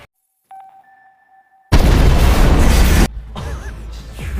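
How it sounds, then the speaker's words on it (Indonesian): A film bomb blast in a port warehouse erupts after a few faint electronic beeps: a sudden, thunderous, full-bodied boom that roars for over a second, then falls to a lower rumbling aftermath. "Bersamaan, Press Wong meledakkan bom yang telah disiapkan di gudang tersebut yang jauh dari brankas"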